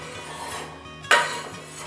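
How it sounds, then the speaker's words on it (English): Small bite-sized sweet potato pieces drop into a frying pan with a little olive oil, giving one brief clattering, rubbing thud mid-clip over a low steady background hum. "And in goes the sweet potato."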